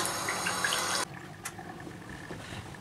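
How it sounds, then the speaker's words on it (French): Running tap water while a face is rinsed at a sink, a steady close splashing flow that cuts off abruptly after a second, then quiet with faint drips. "Et donc je vais venir rincer."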